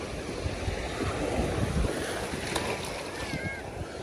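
Water waves wash steadily at the shore in a continuous, close rush mixed with wind buffeting the microphone, with no clear voices.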